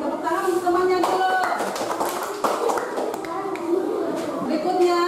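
A class of children claps hands in quick bursts of sharp slaps, mixed with a teacher's voice and children's voices speaking around them.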